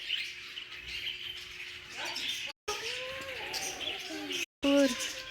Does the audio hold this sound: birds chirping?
yes